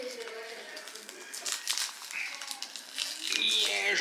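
Crinkly packaging is pulled and crumpled at close range in short, irregular crackling bursts, with occasional sharper rustles.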